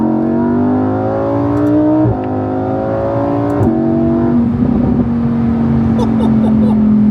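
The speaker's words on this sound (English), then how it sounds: "I'm driving a freaking Lamborghini in Dubai" A Lamborghini Huracan convertible engine drones loudly from the cabin on Dubai roads, its pitch climbing through gears with sharp shift breaks, while someone talks over it.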